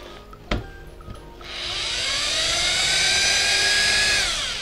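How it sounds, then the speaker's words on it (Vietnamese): Bosch power drill from Germany spinning up in standard drilling mode, a steady rising whine that builds after a brief click and holds loud and continuous to the end. "Test chức năng khoan thường anh em xem."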